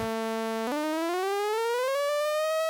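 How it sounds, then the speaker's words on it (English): A sawtooth synth tone sweeps through the Surfer EQ2 plugin, holding steady, then jumping and gliding slowly upward in pitch, bright and buzzy with rich harmonics, alone and continuous. "you can hear that fundamental getting louder here"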